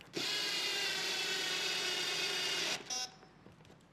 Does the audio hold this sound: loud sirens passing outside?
no